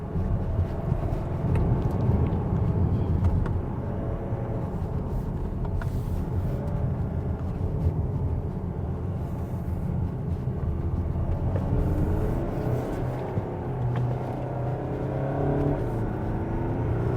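A 2023 Kia Sorento with a 2.2 diesel engine climbing the Genting hill road, a steady low engine drone with road and wind noise heard from inside the cabin, holding a constant level throughout.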